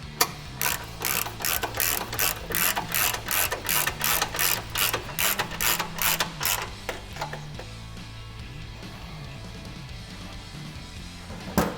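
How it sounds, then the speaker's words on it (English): A 16mm ratcheting wrench tightens bolts on an evap skid during a Jeep JK install, giving a quick, even run of sharp metallic clicks that slows and stops, leaving quiet shop background. "let's go ahead and tighten them up using a 16mm wrench"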